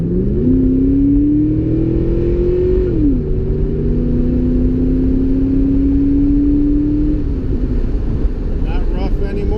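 A Ford Cobra engine revs up, holds, drops sharply, then climbs again to a sustained high idle, a loud continuous droning tone heard close by.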